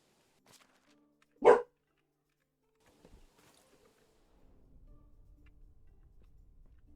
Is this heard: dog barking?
yes